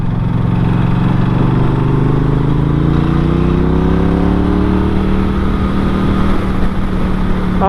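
A Norton Commando 961 SP motorcycle rides off, its engine note climbing steadily as it pulls away, loud and continuous throughout.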